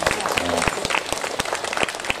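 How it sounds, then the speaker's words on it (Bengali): Audience clapping at a Bengali cultural gathering, distinct individual claps ringing out close by with light crowd murmur and a voice beneath. "বাপি এবং শান্তনুদার জন্য একটা খুব জোরে হাততালি যদি হয়।"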